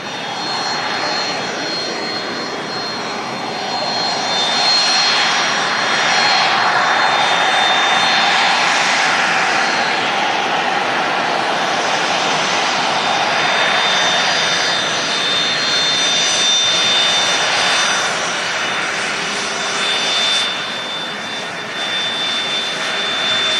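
Jet aircraft engines roar loud and sustained at Manchester Airport, a broad continuous rumble that swells and eases over about twenty seconds with no talking.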